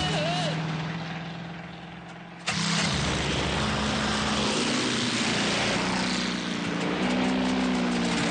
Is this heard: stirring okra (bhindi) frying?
no